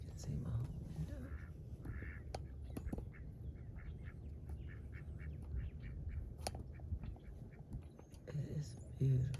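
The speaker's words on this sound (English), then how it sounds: "See our little ducks this morning." Ducks quack outdoors in the morning, a run of short, fairly quiet calls in a steady series against a soft background hum, with a few sharper clicks between them.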